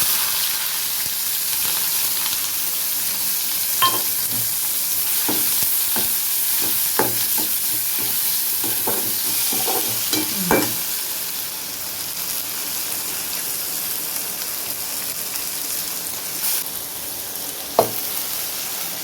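Onion fries in oil with mustard seeds for coriander chutney, giving a steady, close sizzle with scattered pops and crackles and occasional stirring clinks, no talk.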